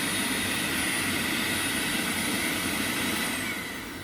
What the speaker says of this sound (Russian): то есть включился двигатель очистки